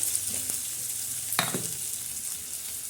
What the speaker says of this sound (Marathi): तडक्यामध्ये आपण कांदा टाकणार आहोत हे टाक कांदा हिरव्या मिरच्या